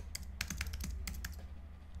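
Rapid typing on a computer keyboard, a run of crisp key clicks in uneven bursts over a steady low hum, close and fairly quiet with no voices.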